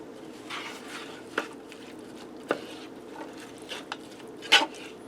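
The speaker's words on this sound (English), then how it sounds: "Let me give that a quick stir." Spoon stirring cowboy cornbread casserole inside a Power XL cooker, soft scraping and a few sharp clinks against the pot over a low background hum, close and fairly quiet.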